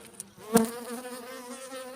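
Honeybees buzz in a steady hum at an open beehive during winter, close and moderately loud, with one brief louder burst as a bee passes near.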